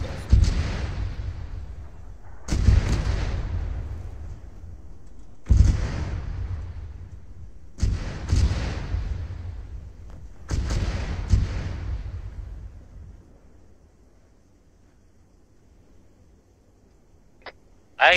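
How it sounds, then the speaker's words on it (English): Mortar fire in the Arma 3 video game, with about five heavy, booming impacts spaced a few seconds apart, each with a long rumbling decay, followed by a quiet stretch. "No, that's mortars."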